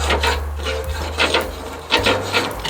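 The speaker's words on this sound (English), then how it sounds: "give it a good scrape" A metal brush or scraper is dragged repeatedly across a gas grill grate with the burner off. The strokes are rough and rasping, close and fairly loud, with a steady back-and-forth rhythm.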